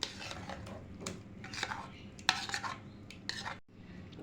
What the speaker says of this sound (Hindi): इसको हाथ से मिक्स करेंगे इस तरीके से